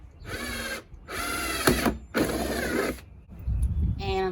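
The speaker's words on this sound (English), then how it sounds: "we're just going to drill some holes in the bottom." A power drill with a 1/2 inch paddle bit bores holes in the bottom of a plastic rain barrel, three close, loud whirring bursts of about a second each, followed by quieter handling noise.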